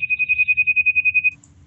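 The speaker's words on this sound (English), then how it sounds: "Sorry about the phone" A telephone ringtone trills in a fast, even electronic pulse, about a dozen beeps in quick succession before cutting off, loud and clear over faint room noise.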